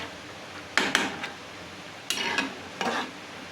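Spice paste for a boal fish curry is stirred in a pan, giving three short scraping, sizzling bursts of spoon against metal separated by quiet pauses, close and fairly soft.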